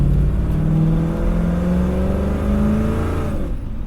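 A carbureted-style V8 fitted with ACES EFI Killshot fuel injection revs hard, its pitch climbing and sweeping in a sustained roar with a slight wavering, loud and up close without talk.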